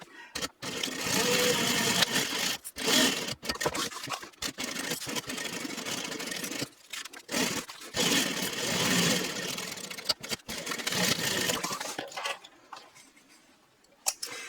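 Sewing machine basting three layered backpack fabric pieces together around the edges, running in steady bursts with short pauses between stitching passes, close and fairly loud, fading out near the end.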